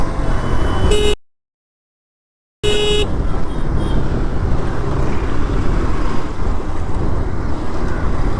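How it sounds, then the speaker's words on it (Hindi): Busy road traffic, with cars passing amid a constant engine and road roar, wind buffeting the microphone, and a brief horn-like tone near the start, interrupted by a short gap of silence. "Traffic traffic traffic."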